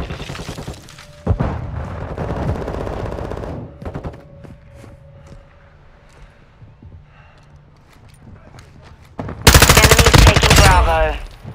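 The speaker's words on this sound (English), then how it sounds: "I'm taking enemy fire!" Heavy automatic gunfire in Call of Duty: Modern Warfare II, loud sustained bursts with booming impacts, especially intense near the end, alongside in-game voice callouts.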